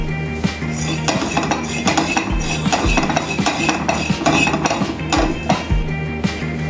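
Poppy seeds dry-roasting in a pan while a metal spoon stirs them, repeated clinks and scrapes against the pan in an irregular rhythm over a faint background, close and clear, no talk.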